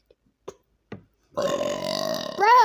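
A few faint clicks and small mouth sounds come first, then a loud, deep, drawn-out burp rises near the end.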